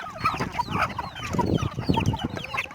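Several chickens cluck and murmur continuously at close range, a busy overlapping chatter of short clucks and soft calls.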